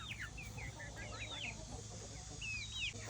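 Young chickens around ten to twelve weeks old, some fully feathered, give soft clucks and high chirping calls scattered through the clip over a steady low background hum.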